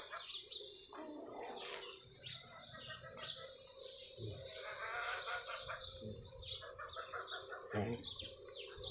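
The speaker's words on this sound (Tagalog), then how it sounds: "Chicken." A chicken clucks faintly in a hot Saudi setting among date palms, with scattered short calls over a steady background hum while a person talks.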